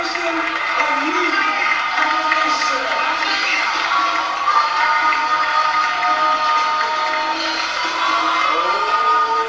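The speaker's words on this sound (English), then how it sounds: "Give a round of applause." Audience at a film screening at Lincoln Center cheering and whooping, with shouts and some clapping in a steady, loud crowd roar that holds for the whole stretch.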